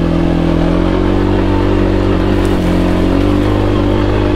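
A 2021 Kawasaki Brute Force 300 ATV engine drones steadily while riding, a loud, close, continuous hum with slight shifts in pitch and no break.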